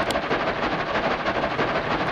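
Trains run in the video game LEGO Loco, producing a steady, rhythmic rolling rumble with an even clickety-clack pulse that stays loud throughout the brief moment.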